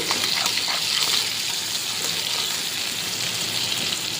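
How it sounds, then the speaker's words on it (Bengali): Potol dhoka (pointed gourd fritters) frying in hot oil in a pan gives a dense, continuous sizzle, close and fairly loud, with no talking over it. "এবার ধোকাগুলো দিয়ে দিলাম তেলের মধ্যে"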